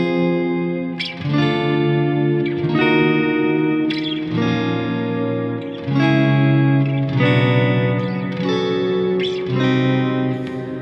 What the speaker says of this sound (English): if we take some plain minor chords and just play them in any order without any rules, it's going to sound like this